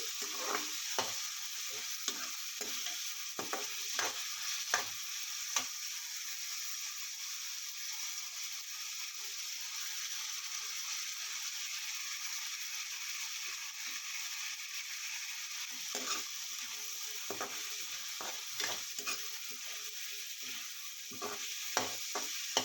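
Potatoes with turmeric frying and being stirred in a pan for jeera aloo fry, a steady low sizzle broken by bursts of rapid scraping strokes near the start and end, close and fairly quiet.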